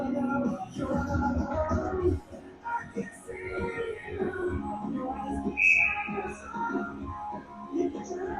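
A referee's whistle blows once, short and shrill, to stop play at a varsity ice hockey game. It rises through crowd and rink noise, with people talking throughout.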